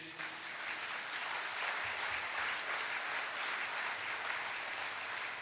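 A church congregation claps steadily through a prayer talk, producing dense, sustained applause from many hands at an even loudness from start to finish, with no voices rising above it.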